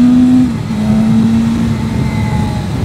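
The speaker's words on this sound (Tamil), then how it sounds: "எக்ஸாஸ்ட் நோட்டுமே ஸ்டாக்ல சட்டிலா இருக்கு." A BMW superbike on its stock exhaust revs close by and loud. One high blip fades into a steady, rough, droning engine note that runs to the end.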